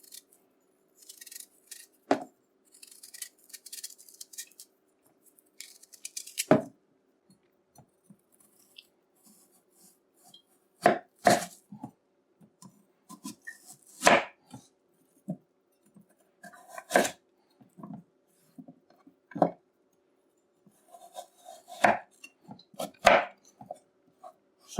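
Eddo being chopped into pieces with a knife on a cutting board, heard as crisp irregular chops and clusters of cuts separated by short quiet gaps, close and clear with no talking.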